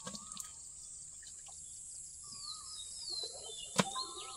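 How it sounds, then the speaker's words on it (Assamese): Small birds chirp on a quiet hillside, with thin, high whistled calls and trills coming faintly from a distance, plus a sharp click near the end. "কিমান চৰাই চিৰিকটিৰ মাত এই পাহাৰত"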